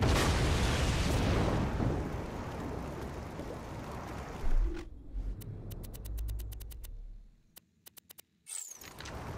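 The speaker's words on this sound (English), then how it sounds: "I gift you an explosion!" A video game explosion booms loudly at first, then rumbles and crackles into a decaying tail, followed by sharp, scattered clicks and pops.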